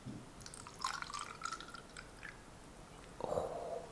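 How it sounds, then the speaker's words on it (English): Water poured into a hair steamer's water tank, soft drips and trickling splashes in short bursts, fairly quiet and close, ending in a brief fuller pour. "Fill the water tank with water."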